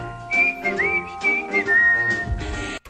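A clear whistled melody of sustained and sliding notes over soft musical accompaniment in a Swedish Eurovision song, steady and close.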